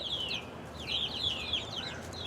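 Chickens clucking close by in short, repeated bursts of calls over a soft background, with no talking.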